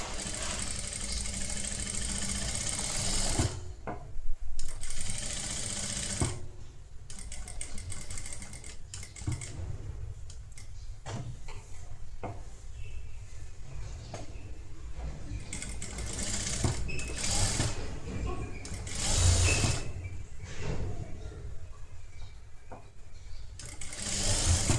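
A domestic sewing machine stitches a half-inch seam on a netted blouse, running in quick bursts separated by short pauses, fairly quiet and close, with no talking.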